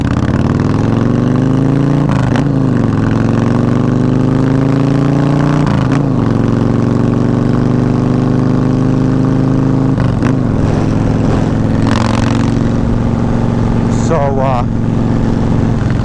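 A Yamaha Warrior 1700 motorcycle with a big bore kit idles with a deep, loud, steady rumble, rising in a few short revs before settling back to idle.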